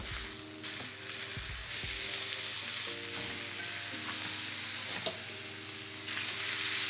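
Steaks sear in a hot pan with a loud, constant close sizzle, and some brief clatter and scraping sounds rise over it.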